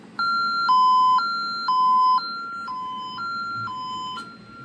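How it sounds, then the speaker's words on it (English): An ITI CS-4000 central station alarm receiver's buzzer sounds loud and close, alternating between two pitched electronic tones in a steady repeating pattern for several seconds with no talk. "only activate the buzzer if, like the buzzer in the receiver itself, if an alarm comes in that isn't canceled"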